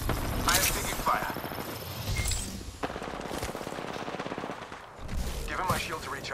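Automatic gunfire from the Apex Legends video game, loud rapid bursts and shots scattered through the span, mixed with in-game voice callouts and other effects.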